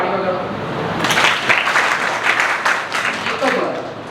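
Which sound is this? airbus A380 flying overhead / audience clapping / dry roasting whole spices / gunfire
audience clapping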